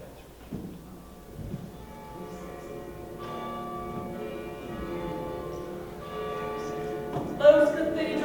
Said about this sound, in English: Those cathedral bells are the only clean thing in the corner